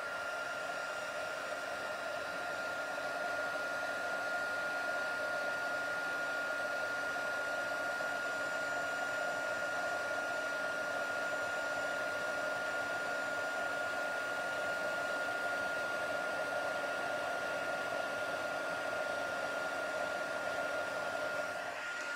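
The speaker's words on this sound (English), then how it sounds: "I'm going to just use my heat tool, so pardon the noise" A steady, loud blowing whir of a heat embossing tool runs continuously with a constant high whine, no talking over it.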